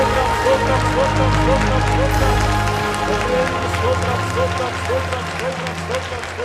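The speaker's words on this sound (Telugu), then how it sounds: "చప్పట్లు కొట్టు దేవునికి స్తోత్రం చెల్లిద్దాం" A worship-meeting congregation claps in praise, dense continuous applause from a crowd with voices and babble mixed through it throughout.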